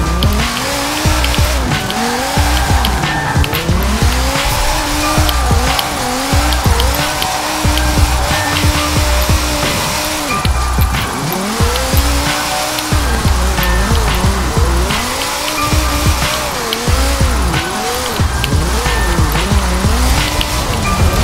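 Race car in Forza Horizon 4 running with a Viper engine sound: loud, continuous revving that rises and falls through gear changes, with repeated tire squeals and skids throughout.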